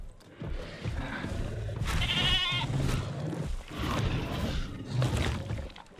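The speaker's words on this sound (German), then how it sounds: "Jetzt jagt der Tarbo hier eine Ziege." A goat bleats repeatedly while a Tarbosaurus hunts it in the video game Jurassic World Evolution 2, the cries layered over a dense rumbling game soundscape with a few sharper impacts.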